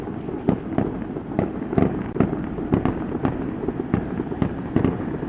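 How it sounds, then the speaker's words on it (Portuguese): Fireworks over Valletta, Malta: a series of sharp distant bangs and pops going off in an irregular rhythm over a steady outdoor background. "Esses fogos de artifício acontecem diariamente aí."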